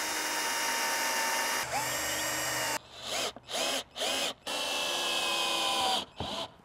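A power drill drives screws into the timber cross braces of a garden sweet pea frame. It gives several close, loud whirring bursts of varying length with short pauses between them, and no one talks.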